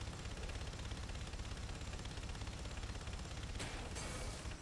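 Gunshots in the video game Enslaved: Odyssey to the West, a dense, continuous roar of rapid fire that holds at an even level throughout, with a couple of sharper cracks near the end.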